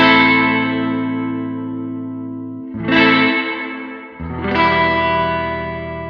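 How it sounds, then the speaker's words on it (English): Fuse Audio Labs VREV-63 vintage spring reverb plugin on an instrument, sustained tones with a long metallic, splashy spring decay, restruck twice, each swelling and ringing out, with no talk. "The spring reverb sound of the VREV-63 is outstanding"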